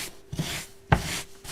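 Regular scrubbing brush worked over chenille fabric, giving a few soft bristly scrub strokes with a couple of sharper knocks.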